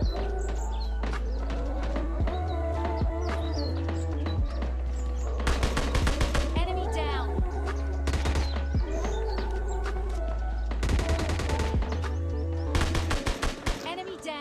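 Gunfire from an SKS rifle in PUBG Mobile Lite, heard as several loud bursts of rapid shots over a steady low game hum, with quieter stretches between the volleys.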